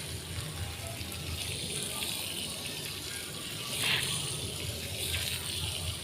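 Water from a tap or hose pours steadily over a shoe rack being washed, a continuous close hiss and splash with a brief louder gush midway.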